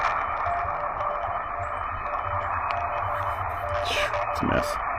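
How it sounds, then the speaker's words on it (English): A steady wash of hiss and buzzing interference on an amateur radio receiver in a busy urban area among office buildings. It stays constant and fairly loud, with a faint tone running under the noise. "You hear all that noise? Oh man, the QRM's horrible here."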